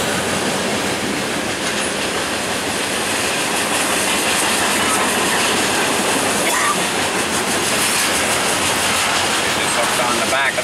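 Fast freight train passing close by, a loud steady rumble with rhythmic clickety-clack of wheels over rail joints and faint wheel squeal, sustained for the whole stretch.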